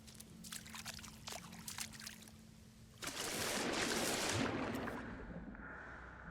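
In No Man's Sky, the player drops into water, a gentle trickling and lapping that suddenly gives way to a dense rushing, bubbling underwater wash that fades near the end, with no talking.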